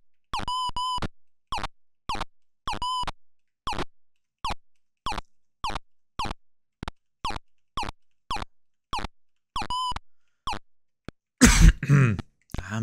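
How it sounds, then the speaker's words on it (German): A run of short, evenly spaced coughs and throat-clearing sounds, about fifteen quick bursts, sits up close in a retro role-playing game, then ends in a brief harsh noise burst. "Ein bisschen hustig gerade drauf."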